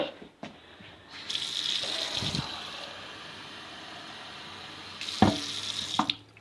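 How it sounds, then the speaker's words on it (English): Water runs steadily from a tap into a cooking pot for a few seconds while making green chili pork steak, with a couple of clanks of metal at the start and near the end. "you can put some more water in."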